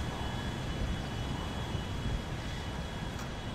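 Large cargo plane landing at a Coast Guard site, a steady broadband roar of engine and airflow holding at constant loudness throughout, fairly distant and unbroken, with no talk.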